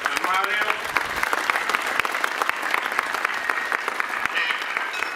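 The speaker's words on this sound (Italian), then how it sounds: "Facciamo un ultimo caloroso applauso a San Germanio." A crowd gathered for the procession of Saint Gianuario in Marsico Nuovo applauds warmly outdoors, steady dense clapping that carries for several seconds with a voice faintly audible early on.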